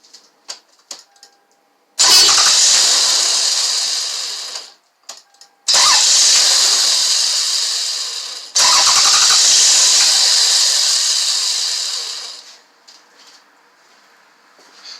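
A Toyota/Lexus car with a P1300 fault cranks three times without catching, each long whirring starter burst loud and close, separated by brief clicks and silences.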